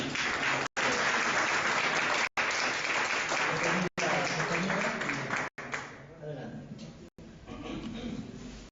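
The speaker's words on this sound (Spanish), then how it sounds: "pidiéndoles que las recibamos con un aplauso" Audience applause welcoming a speaker at a financial services law talk, steady dense clapping broken by brief dropouts, thinning toward the end with some voices coming through.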